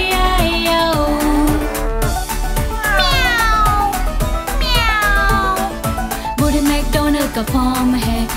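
Cat meows recur in the Hindi version of the nursery rhyme Old MacDonald, loud and close, set in a bouncy rhythm over a steady beat and children's song backing, with drawn-out rising and falling calls.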